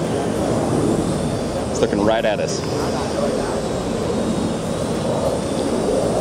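A Parrot AR Drone quadcopter hovers nearby with a continuous whirring buzz from its rotors, heard steadily under a person speaking.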